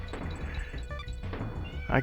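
A house cat meows a few times nearby, its short calls layered over other background sound.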